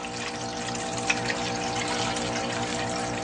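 Water rushes steadily through a gold recovery system, a dense, continuous close-up flow with a faint tap or two as material is spooned in.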